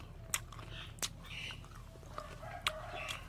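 Someone bites into a home-grown olive fruit and chews it, giving a few sharp crunchy bites followed by soft, moist chewing close by.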